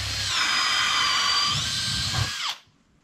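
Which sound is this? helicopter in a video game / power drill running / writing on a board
power drill running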